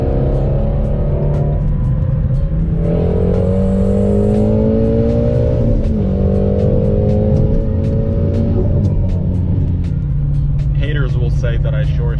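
A Whipple supercharged Shelby GT350 of about 950 hp revs up and down with a loud, deep exhaust note that rises and falls in pitch several times. A supercharger whine rises over it, and a brief crackle comes near the end.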